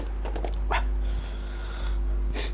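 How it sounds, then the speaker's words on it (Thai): A nearby dog gives a short growl and a few brief barks and whimpers, set against a steady low hum, with no speech. "มันซ้อมเห่า"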